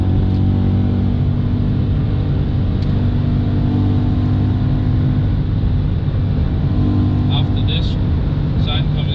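BMW E92 M3 CS engine under steady throttle on the Nordschleife, a loud, continuous in-cabin drone with rumbling harmonics that holds level throughout, while someone talks over it.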